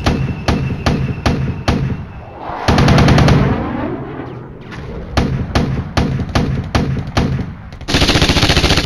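Gunfire and explosions in the modern-war strategy video game Flashpoint Campaigns, with tanks and helicopters in combat: a rapid series of sharp, loud shots in bursts, with a longer roaring blast in the middle and a dense burst at the end, no talk.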